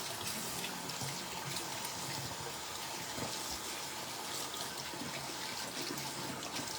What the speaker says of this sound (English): let me just at least rinse this little piece off.